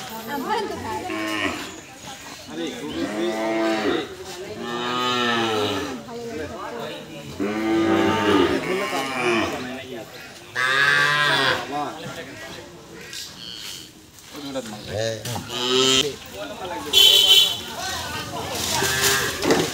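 Cattle brought in for vaccination at a government veterinary hospital moo repeatedly, loud and close, with several drawn-out calls overlapping people talking nearby.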